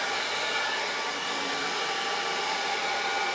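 A hand-held hair dryer blows on the ends of hair with the nozzle aimed downward, giving a loud, steady whooshing whir that runs unbroken from start to finish with no talking.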